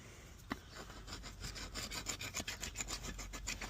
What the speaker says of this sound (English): I've got a wee half round file, just at the gaps where the centres meet the rims.